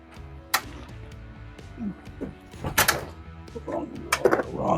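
Drawer pulled open in a home workshop while hunting for a rubber mallet, a jumble of wooden thunks, slides and rattling contents over several seconds, close by, with a few faint vocal sounds mixed in.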